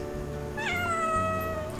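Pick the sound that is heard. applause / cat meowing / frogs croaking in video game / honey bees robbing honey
cat meowing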